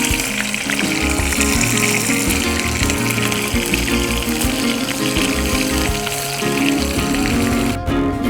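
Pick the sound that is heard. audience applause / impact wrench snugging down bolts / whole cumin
whole cumin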